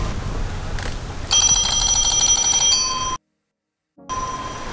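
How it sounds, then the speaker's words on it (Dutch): Electronic bell of a VanMoof X3 e-bike sounding in several styles: a ringing, phone-like trill for about two seconds, a brief silence, then another electronic ring resuming against an outdoor background. "Zoals jullie nu kunnen horen zijn de bellen heel erg elektronisch."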